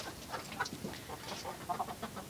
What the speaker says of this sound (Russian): Это петух гоняет петухов.